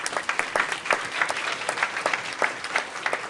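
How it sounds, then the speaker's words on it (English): School board meeting audience applauding scholars, steady close clapping with sharp individual claps throughout, no talk over it. "Y'all give them a round of applause anyway."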